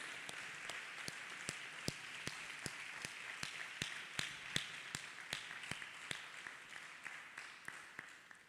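A church congregation claps hands in a steady rhythm, sharp repeated claps about twice a second, loud and close, continuing for several seconds with no talk over them.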